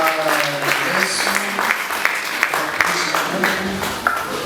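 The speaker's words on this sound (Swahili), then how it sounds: "Makofi tena mengi kwa Yesu." A church congregation at a Sunday afternoon service applauds, dense clapping from many hands filling the room at close range, with some voices calling out over it.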